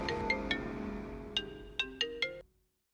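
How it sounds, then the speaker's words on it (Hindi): A phone ringtone in a dubbed Hindi horror film plays a short melodic electronic tune of several bright tones, then cuts off abruptly, heard alone. "मैडम, आपका फोन है मैडम।"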